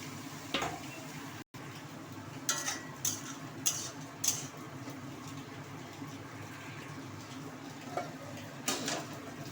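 Banana flower being stirred in a pan for a Bengali mocha ghonto with chana and pea dal fritters, with scattered scraping clinks of a spatula over a soft steady sizzle.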